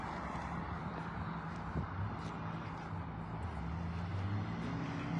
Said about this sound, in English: That red car is turning out right here really loud.